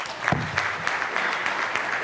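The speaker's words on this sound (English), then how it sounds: "maybe if you're all right with a round of applause to the panel" Applause from attendees for a panel at the NCAMA conference in Nebraska, a brief patch of steady clapping with some voices mixed in.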